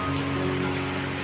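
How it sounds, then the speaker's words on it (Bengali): Rain falls outside as a continuous, fairly loud wash of noise, steady from start to end, with a faint low hum underneath and no talking. "এখানে সকাল দিয়েই বৃষ্টি হচ্ছে"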